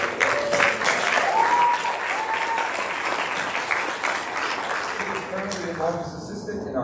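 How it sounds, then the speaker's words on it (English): A school board audience in the South Country Central School District applauds a retiring staff member with sustained clapping at a steady level, while voices carry on underneath. "I think that's worthy of a clap."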